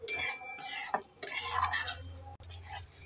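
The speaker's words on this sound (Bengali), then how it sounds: "এবার নেড়ে চেড়ে মশলাটাকে আমি 2 মিনিট ভালো করে কষে নেব।" A spice paste with cumin and a splash of water is sautéed in a pan. A utensil stirs and scrapes in uneven bursts over a soft sizzle, close up, with no talking.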